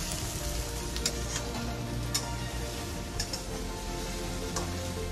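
Potatoes fry in a pan with a steady sizzle and irregular faint ticking pops, close and continuous, no talking.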